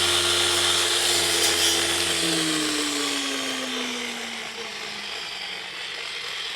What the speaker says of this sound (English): Whoops, I think I was hitting a ground rod.